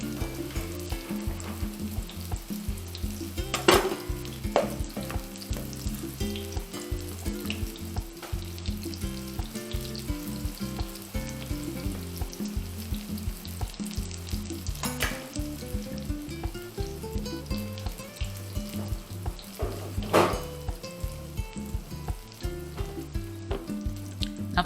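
Potato fritters fry in a pan with a constant close crackling sizzle that runs through the whole stretch, broken by a few sharper clinks and scrapes, with no voices.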